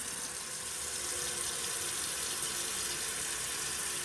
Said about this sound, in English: So I'm filling the pot with some water to do the peas.